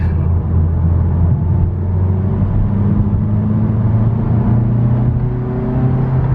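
Engine of a 2017 Mazda CX-3 GT held at higher RPM in sport mode, heard from inside the cabin with the windows up as a steady loud drone and hum that holds even throughout.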